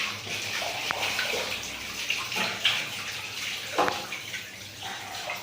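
Water poured over a split air conditioner's outer unit during a coil-cleaning service, a steady close splashing wash running throughout with a few brief louder surges.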